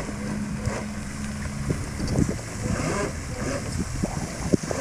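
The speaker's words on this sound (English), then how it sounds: "We got our Rapala lure right here off of our RC boat" A small RC boat motor hums and whirs over the water while trolling a Rapala fishing lure, mixed with gusty wind buffeting the microphone and light splashing.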